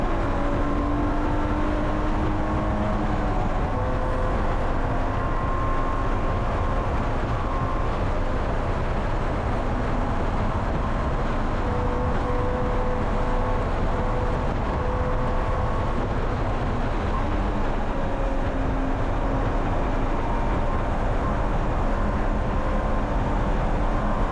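Super touring race cars roar past on the Willow Springs racetrack, a continuous dense wash of engine noise heard from inside a car, loud and steady throughout.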